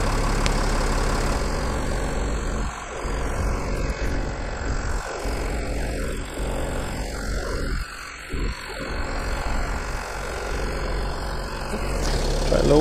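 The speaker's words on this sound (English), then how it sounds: "the compressor kicked on again" An Airmatic air suspension compressor on a 2007 Mercedes W211 320 CDI runs with a continuous low droning hum, close and steady, shifting slightly in tone midway and swelling near the end.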